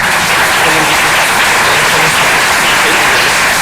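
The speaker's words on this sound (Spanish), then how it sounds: "Ministro, te saludamos con un fuerte aplauso" A large audience at a public speaking and debate workshop gives strong, sustained applause to welcome a minister, a loud continuous roar of clapping with no break.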